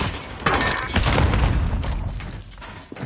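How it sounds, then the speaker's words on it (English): A frag grenade detonates in the Warzone video game, a loud, close boom with a rolling, sustained rumble that tapers off over a few seconds. "Yep. Throwing frag."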